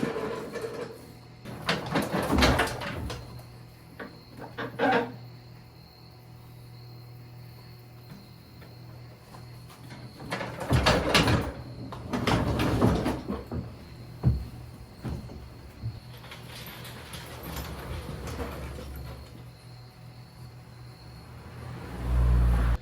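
John Deere STX38 lawn tractors being unloaded off a trailer outdoors, with intermittent clanks, scraping and rolling bursts against a steady background of insect chirping and a low hum, no talking.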